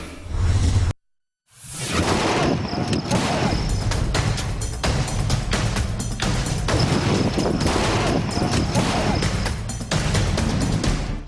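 Gunfire by Afghan forces at the Torkham border crossing: loud, dense bursts of rapid shots and cracking impacts over rough, noisy ambience after a brief silence.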